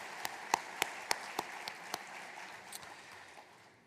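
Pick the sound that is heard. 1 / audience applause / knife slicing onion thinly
audience applause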